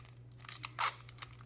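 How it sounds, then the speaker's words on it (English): Short tearing bursts of adhesive tape pulled from a roll to fasten a paper kite sail, a few quick rips close by over a steady low hum. "And you're going to use some tape."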